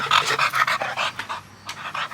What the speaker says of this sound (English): I got to feed these dogs.